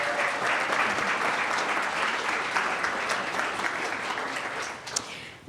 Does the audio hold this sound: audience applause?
yes